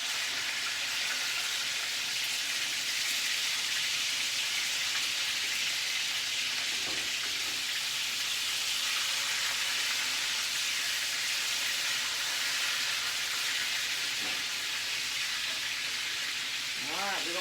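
Hamburger steaks browning in a pan give off a steady, even sizzle like light rain, continuous and close throughout, with occasional faint scrapes and no talking.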